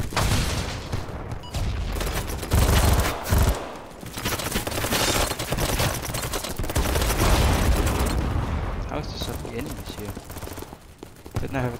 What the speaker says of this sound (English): Teammates shooting at them.